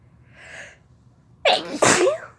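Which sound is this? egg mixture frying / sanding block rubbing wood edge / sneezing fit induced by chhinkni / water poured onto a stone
sneezing fit induced by chhinkni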